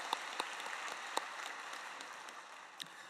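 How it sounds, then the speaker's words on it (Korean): A church congregation claps for the choir after a Sunday worship service at Yoido Full Gospel Church, a steady hall-wide patter of many hands with a few sharper nearby claps standing out, no voices over it. "아름다운 찬양으로 하나님께 영광 올리신 우리 찬양대에게 다시 한번 감사의 박수를 드리겠습니다"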